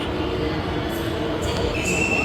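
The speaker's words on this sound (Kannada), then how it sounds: "ನಮ್ಮ ಟ್ರೈನ್ ಬಂತು ಮೆಟ್ರೋ ಟ್ರೈನು ಬಂತು" A Hyderabad metro train arrives at a station at night, with a steady mechanical rumble and faint high squeals from the wheels, heard alone without talking.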